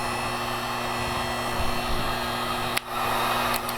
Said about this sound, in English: Now heat guns are really kind of neat because you've got multiple settings on these things.